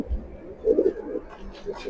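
Racing pigeons coo in a few soft, low bursts, close by and fairly quiet.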